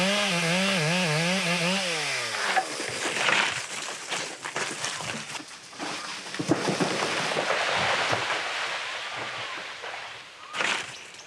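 A chainsaw felling trees in a French Guiana rainforest revs loudly in rising and falling pitch, then bites into the wood with a rough, grinding roar that swells and fades near the microphone.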